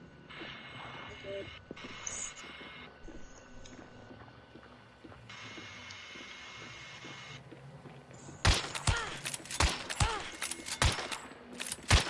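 Sharp gunshots from the Hunt: Showdown video game ring out in a loud, ragged burst of several shots near the end, after a stretch of quieter ambient game sound.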